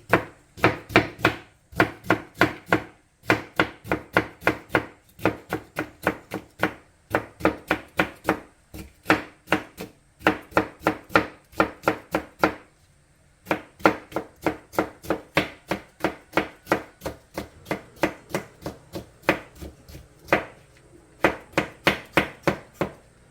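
Rapid knife strokes julienning cucumber on a cutting board, steady bursts of quick chopping with short pauses between runs, close and crisp with no talking.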